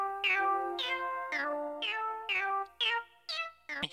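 A video game cat meows repeatedly in Wii Music, about eight clear, tonal meows in steady succession, each rising then falling, close and fairly loud with no talking.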